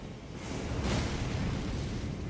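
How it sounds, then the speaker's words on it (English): In the Elden Ring video game, an enemy cannon fires with a broad, rumbling blast that swells and lingers as a dense, noisy roar rather than a sharp crack, heard alone without talk. "Holy crap, he has a cannon!"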